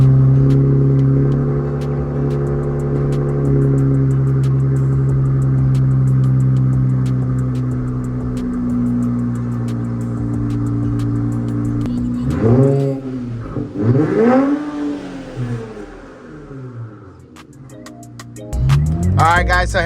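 An Infiniti Q60 Red Sport idles with a deep, steady drone, then is revved several times in quick rising and falling sweeps, loud and close, with stock downpipes still fitted.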